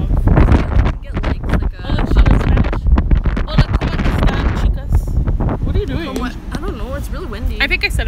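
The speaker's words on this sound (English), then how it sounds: "Really windy." Strong wind buffets the microphone outdoors with a steady roar and rumble, running under near, continuous talking throughout.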